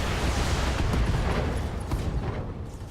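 A mech's stored ammunition cooks off in the Battletech video game, a dense rumbling roar of overlapping blasts that holds steady for a few seconds and thins slightly toward the end.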